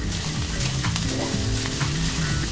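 Four cloves of chopped garlic sizzle loudly and steadily in a hot pan as they are stirred, with the scrape of a utensil running through the dense crackle.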